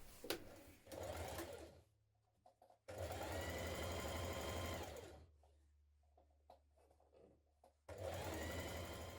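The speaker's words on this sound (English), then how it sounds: "we're going to stitch to this point, then we're going to back tack to reinforce it" Sewing machine stitching a blouse seam with a back tack, three close, loud runs of motor whir broken by quiet gaps, with faint handling clicks between them.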